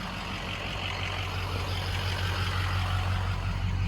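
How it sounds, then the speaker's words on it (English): White dually pickup truck running down the street, its engine giving a steady low rumble close by with a faint whine above it, and no talking. "White dually's running."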